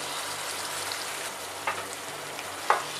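About ten centilitres of wine are poured into a hot pan after flambéing and brought to a boil, giving a steady dense sizzle with a couple of brief sharp pops.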